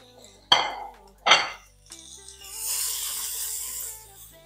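Peppers tossed in a metal pan, with two sharp clanks of a utensil against the pan followed by a sustained sizzle as they sauté, close and moderately loud.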